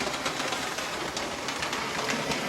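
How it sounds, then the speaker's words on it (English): Model train rolling steadily on track as an N2 electric locomotive pushes a Tri-ang clockwork diesel shunter, a continuous light rattling clatter with faint repeated clicks, close and even throughout. "try and send an electric locomotive around to give the train a little push"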